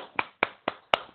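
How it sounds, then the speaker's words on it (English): Four sharp, evenly spaced hand claps ring out close by, quick and isolated rather than a full crowd's applause. "can we have a round of applause to Harris?"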